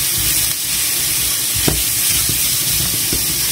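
Steady loud sizzle of vegetables frying in oil in a pan for squid and prawn rice, a continuous hiss with a few faint stirring clicks, no talk.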